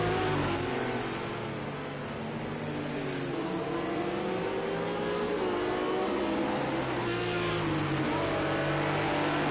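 Race cars in the Project Cars 2 video game hum and whine continuously at Spa, several engine notes overlapping and shifting pitch as they rev through corners at a steady moderate level.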